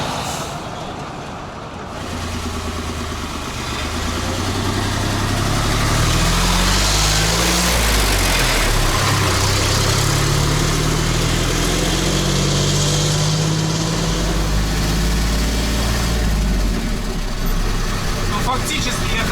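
A Magirus-Deutz 4x4 ex-fire truck's engine runs loud and steady, a dense close mechanical roar with a slowly shifting low drone throughout, and talk mixes in underneath.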